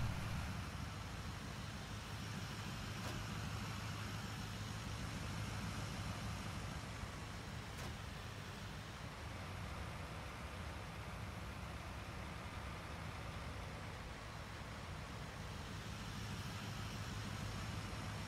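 Massey Ferguson 8070 tractor with a Perkins engine running on a farm, a steady low faint engine drone holding evenly throughout with no talk.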